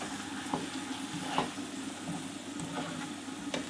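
Minced meat (keema) fries with browned onions in hot oil, giving a busy crackling sizzle broken by several louder scraping stirs at irregular moments, close up and without voices.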